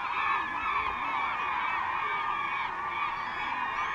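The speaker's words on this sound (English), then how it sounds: "Look at all these seagulls." Seagulls crowd a fish hatchery in Valdez, Alaska, calling in a dense, continuous chorus of harsh overlapping squawks and honks, loud and close throughout.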